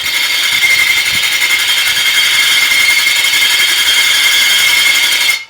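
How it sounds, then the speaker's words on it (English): A power drill runs at close range during seat work on a Mercedes 300SL Gullwing, giving a steady, loud, high-pitched whine that holds unbroken for about five seconds and then cuts off abruptly. "That drill sounds terrible."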